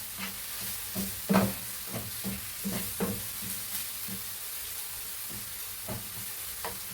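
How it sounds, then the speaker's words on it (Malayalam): Crushed ginger and garlic with curry leaves and salt sautéing in a pan for chicken curry, a soft, steady sizzle broken by repeated spoon stirs and scrapes, close and alone. "എല്ലാം കൂടി നന്നായിട്ടൊന്ന് വഴന്ന് വരട്ടെ"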